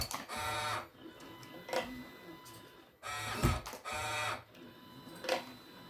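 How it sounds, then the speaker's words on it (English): An automated flat cable cutting machine driven by a PoKeys57U USB CNC controller runs in repeated whirring motor bursts with clicks and short pauses, fairly faint and steady in rhythm. "flat cable cutting machine is developed on USB CNC controller PoKeys57U board"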